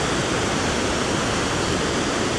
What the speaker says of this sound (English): It's a lot of water coming out of Laanecoorie and heading downstream.